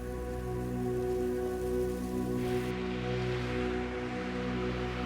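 Steady monsoon-season rain pours down in Pakistan in a dense, constant hiss with a low hum underneath, continuing evenly throughout.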